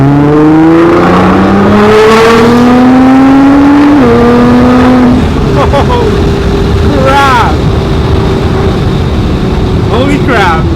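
A Nissan GT-R Track Edition on medium boost and 91 octane fuel accelerates hard, its engine roaring and rising in pitch through several gear changes, loud and close from inside the car, then settling into a steady drone with excited voices over it.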